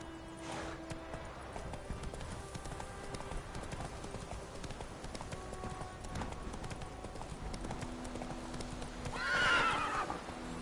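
Roach, Geralt's horse in The Witcher 3, gallops with steady rapid clip-clop hoofbeats through the whole stretch, then lets out a loud whinny near the end over ambient game sound.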